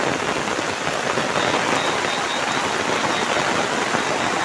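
Heavy monsoon downpour in the Konkan, a dense, steady hiss of rain pounding surfaces close by, loud and unbroken throughout.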